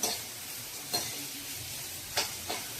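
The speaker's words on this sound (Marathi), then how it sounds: "थोडा कांदा परतून झाला की त्यावर मी टोमॅटो घालणार आहे." Tomato frying with sautéed onion, garlic and turmeric in a pan gives a continuous close sizzle and hiss, broken by a few soft scraping stirs at irregular intervals, with no voices.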